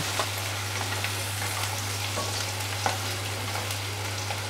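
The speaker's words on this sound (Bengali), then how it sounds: "এগুলো দিয়ে একটু ভাজা ভাজা করব" Chopped onion and garlic frying in a pan for a vegetarian cutlet, a soft continuous sizzle with light crackles and occasional stirring scrapes, fairly quiet, with a steady low hum underneath.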